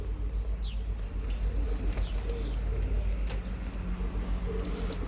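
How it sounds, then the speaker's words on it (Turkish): Pet pigeons on a terrace coo softly over a constant low outdoor rumble, their calls faint and intermittent at a moderate distance. "Kuşlarımız da dışarıya çıkmış."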